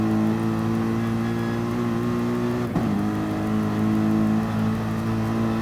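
Race car engine in a GT racing video game, held at a steady high drone with a brief throttle blip and rev dip midway, the engine note continuous and close throughout with no talk.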